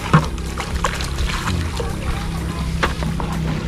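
Water gushes strongly into a kawa bath at an outdoor resort in Tanay, Rizal, a steady close splashing flow with gurgling and small bursts throughout.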